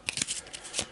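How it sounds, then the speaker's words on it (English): Eldritch Horror mystery cards being shuffled by hand, a quick, close riffle of crisp paper flicks in a short burst. "Give these a shuffle."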